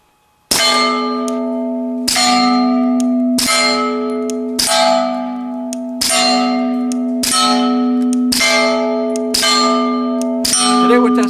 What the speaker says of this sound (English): Today we're shooting some steel.